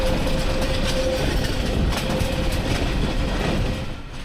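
Steady rumble and clatter of Albania's last passenger train running on rails, heard from inside the carriage, with a faint tonal whine early on and constant loud rolling noise throughout.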